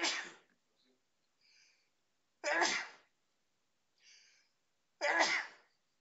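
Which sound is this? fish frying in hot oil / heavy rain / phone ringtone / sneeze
sneeze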